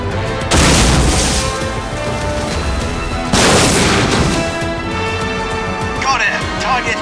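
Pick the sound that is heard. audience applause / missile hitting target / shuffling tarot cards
missile hitting target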